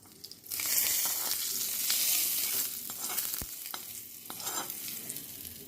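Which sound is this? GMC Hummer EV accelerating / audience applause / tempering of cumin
tempering of cumin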